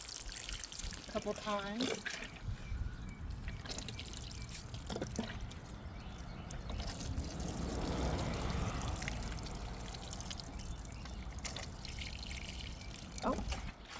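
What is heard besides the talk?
watering plants, water soaking into the soil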